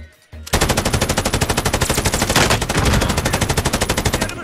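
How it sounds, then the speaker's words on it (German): Rapid automatic gunfire in the Warzone video game, a loud sustained burst of evenly spaced shots running nearly the whole clip after a brief quiet start, with no talking. "Werde beschossen!"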